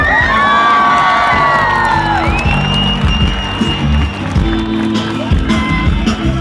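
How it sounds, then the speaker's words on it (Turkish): A large outdoor concert crowd in Malatya claps and cheers loudly, whoops and shouts rising over a lingering vocal note and a steady low band hum throughout. "Kendinizi alkışlar mısınız kocaman?"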